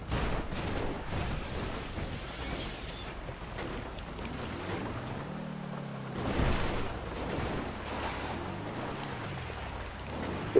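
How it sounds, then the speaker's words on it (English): Rain in GTA 5 makes a steady, dense wash of noise with gusty wind and a low vehicle rumble that rises and falls. It plays continuously, with no voices. "We're getting a little rain in the game right now."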